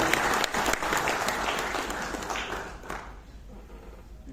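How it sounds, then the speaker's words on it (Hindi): Enthusiastic applause from a festival crowd at IIT Kanpur after a speech, loud and sustained at first, then thinning out and fading toward the end. "उनके संबोधन के लिए एक बार जोरदार तालियां"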